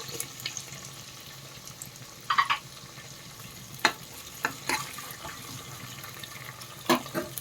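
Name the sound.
green chilli and grated ginger frying in oil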